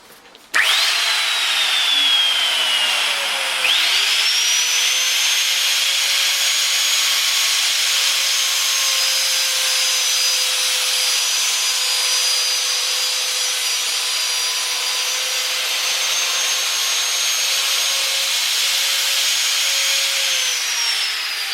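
A power router cuts a straight groove in wood along a clamped straight edge, one continuous high whining cut that runs loud and steady for about twenty seconds with a brief dip in pitch early on, no talk.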